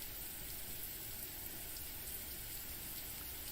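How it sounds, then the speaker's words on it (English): Slanted rain patters on branches outside a window, a soft, even hiss that stays faint and constant throughout. "The slanted rain was pattering on the branches outside the window."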